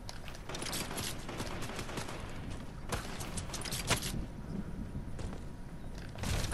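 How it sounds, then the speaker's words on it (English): Rapid, sustained gunfire rattles through Fortnite gameplay, a dense stream of minigun shots with a few louder cracks, steady and fairly close. "Someone's shooting at me."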